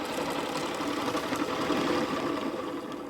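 A steady mechanical whir of a rotating mechanical drive on a magnetic generator running continuously at close range, even and unbroken with a faint rhythmic buzz.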